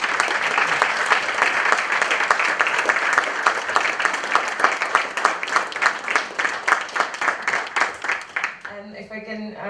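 Conference audience at a women-in-credit event breaks into dense, steady applause that fills most of the clip, with claps growing more distinct and rhythmic before stopping abruptly near the end, followed by a short stretch of quiet room tone.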